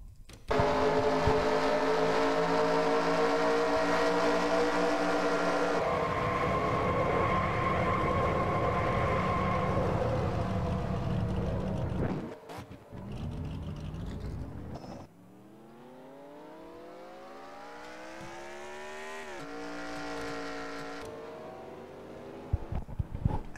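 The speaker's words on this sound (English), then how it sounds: "indeed the cars have pulled into the pits" Race cars in NASCAR Racing 2003 pulling into the pits at Nashville, a steady loud engine drone that shifts pitch partway through, dips, then rises again as the cars accelerate away.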